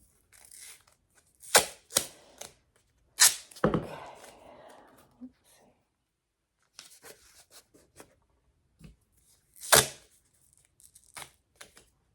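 Tape tearing off a roll and pressing down with glue on an insect wall-hanging sculpture's under-skeleton, giving several sharp ripping bursts with quieter crinkling handling between them.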